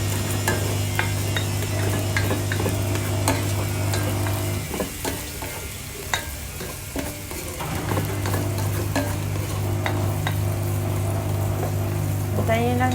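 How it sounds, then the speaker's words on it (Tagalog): Garlic and onion sauté in a pan, a steady broadband sizzle running throughout with a brief dip in the middle, scraped and stirred now and then, plus a low steady hum beneath. "Hintayin lang natin maluto rin yung sibuyas bago natin ilagay yung pork"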